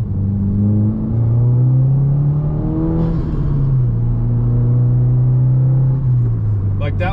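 A car with a JB4 tune pulls at a third to half throttle. Its smooth engine drone rises steadily in pitch, falls back, then climbs again. The sound is loud and close-up, as if heard from the cabin.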